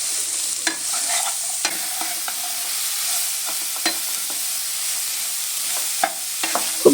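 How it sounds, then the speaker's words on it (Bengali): Grated beetroot and carrot fry in a pan over low gas for vegetable chops, a steady close sizzle with repeated clinks and scrapes of a spatula stirring. "এবার বেশ কিছুক্ষণ ধরে এটা আমি ভেজে নেব।"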